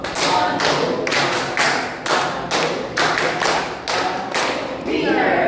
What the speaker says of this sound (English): Please give yourselves a winner clap.